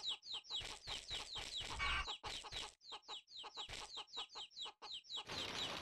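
Chickens in the video game Chulip cluck in quick, repeated bursts, a busy run of sharp calls close by with no talking over them.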